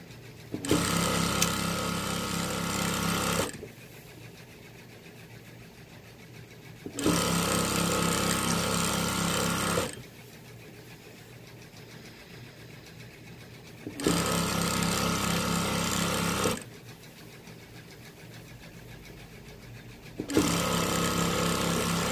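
Sewing machine stitching rows of t-shirt quilt strips, running in loud, steady bursts of about three seconds each, separated by quiet pauses, repeating four times.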